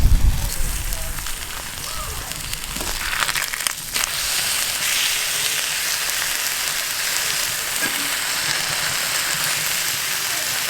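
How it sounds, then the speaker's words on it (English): Liquid bubbling and sizzling in a cast iron pan on the stove, a steady close crackle and hiss before a full boil, with no one talking over it. "we got bubbles. Not boiling yet"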